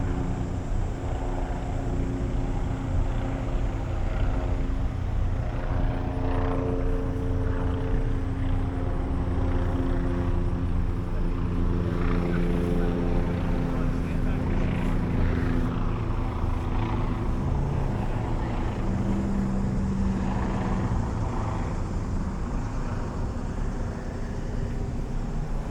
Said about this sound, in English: Oh, there's the helicopter, and he's circling around again.